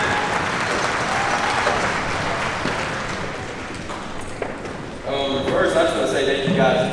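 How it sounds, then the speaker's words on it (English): An arena crowd claps and cheers in a sustained ovation at a player's jersey retirement in Gate City, loud and continuous, rising again near the end as a voice speaks over it. "you guys are electric with the clapping and the ovation"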